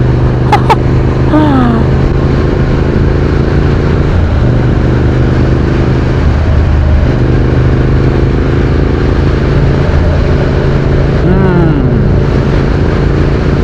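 A Triumph Speed Twin 900 motorcycle engine runs with a loud, steady droning rumble and a few brief rev changes, close up and heavy with wind noise throughout.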